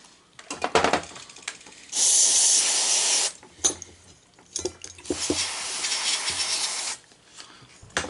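Two long hissing bursts of electronics cleaner sprayed onto a car's 2.4L starter part, each lasting about a second or two, with clicks and handling noises around them and no talk.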